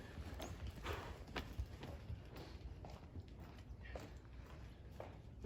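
A horse walks on a steady, relaxed gait, its hooves clip-clopping in an even rhythm at a close but quiet level over soft background noise.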